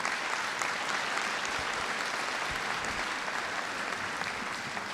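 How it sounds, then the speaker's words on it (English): Commencement ceremony crowd at Pitt Community College applauds faculty, a continuous wash of many hands clapping at steady volume from start to finish, somewhat distant and without speech. "Let's have applause for their multiple ways of assisting you"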